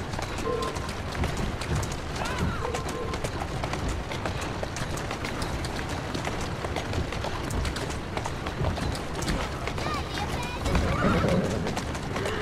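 In the video game Assassin's Creed, a horse whinnies while its hooves clip-clop steadily over a dense, continuous outdoor ambience.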